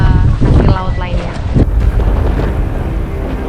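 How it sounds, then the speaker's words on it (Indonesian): A wooden pompong fishing boat heads out to sea, with heavy wind buffeting and rushing water around the hull. A low engine rumble sits under the loud, blustery noise. "kami sudah di pompong atau di atas perahu kayu"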